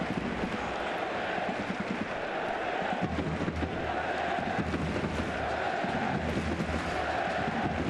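A football stadium crowd roars continuously and loudly at a FC Cartagena versus CF Fuenlabrada match after a corner is conceded, a dense, sustained wall of cheering and shouting.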